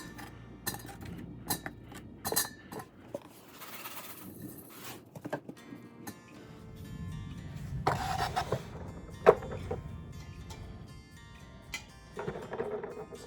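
Eggs set one by one into an Instant Pot on top of potatoes: scattered light clicks and knocks of shell against metal and each other, irregular and close, with soft handling noise between them.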